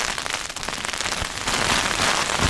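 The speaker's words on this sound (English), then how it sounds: "I'll wait till the rain dies down a bit." Heavy rain drums hard on a tent at a wild camping spot while strong wind gusts, a dense, loud, crackling patter that swells louder partway through, with no talk.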